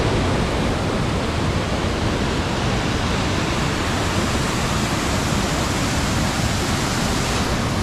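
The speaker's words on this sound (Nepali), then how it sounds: "झर्नाको ठुलो आवाज आइरह" The Mailung waterfall roaring loudly, a dense, unbroken wash of noise that stays constant for several seconds with no voices.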